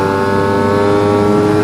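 A Lambretta scooter with a BGM PRO MZ30 exhaust holds a loud, steady high-revving engine note around 5,000 revs, a sustained buzzing tone with no voices over it.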